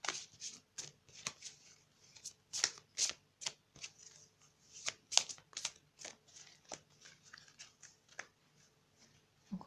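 Tarot cards are shuffled in quick, crisp riffles and flicks, close and fairly loud, in an uneven run of bursts with short pauses between them.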